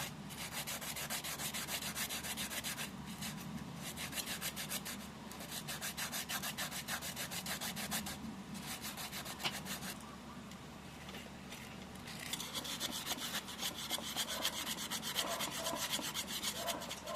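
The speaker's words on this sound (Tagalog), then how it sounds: "bilugin niyo lang yung liha niyo, ipasok niyo lang, sundot-sundutin niyo lang mga boss" Sandpaper rolled up and scrubbed inside a Honda Click scooter center stand to strip rust, a steady close rasping rub with brief pauses, continuing for over fifteen seconds.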